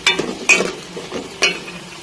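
Okra and onions frying in a pan while being stirred, a steady sizzle broken by a few sharp scraping strokes of a utensil against the pan.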